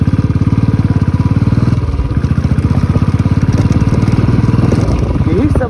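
Motorcycle engine chugging loud and close with a steady pulsing thump as the bike rides a rough road between Patnitop and Pahalgam in Kashmir, continuous throughout with slight shifts in revving.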